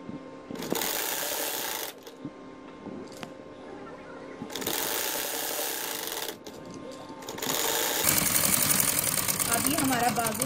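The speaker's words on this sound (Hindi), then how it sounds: "अब ये देखें, हम इसको सिलाई लगाने लगे।" A sewing machine stitches a sleeve onto a kameez in several bursts of steady whirring, pausing briefly between runs and growing louder and more continuous toward the end, close to the microphone.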